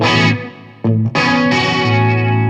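Electric guitar played through a Strymon Deco pedal in bounce mode, a tape delay with an extra repeat and slight wobble; distorted chords ring loud and thick, broken by a brief gap before sustained notes swell back in.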